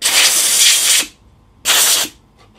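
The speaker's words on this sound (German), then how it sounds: "ich sage nichts weiter dazu und flex es einfach weg" An angle grinder cuts through a metal part in two loud, harsh hissing bursts of about one second each, separated by a short pause.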